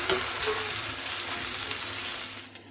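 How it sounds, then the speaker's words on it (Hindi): Onions frying in hot oil in a home kitchen, browning lightly, give a steady close sizzle with faint stirring scrapes throughout, easing off at the very end. "तो ये मेरा प्याज ब्राउन हो रहा है"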